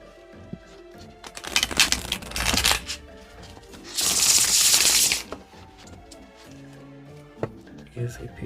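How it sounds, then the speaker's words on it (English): A Spooky Tarot deck is given a riffle shuffle, heard up close as rapid papery flutters and a bright sustained riffle burst, with someone speaking around it. "Give it one more good shuffle."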